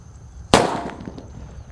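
A mercon petir firecracker goes off with one sharp, loud bang, followed by a short, crackling decay, heard outdoors with no talk.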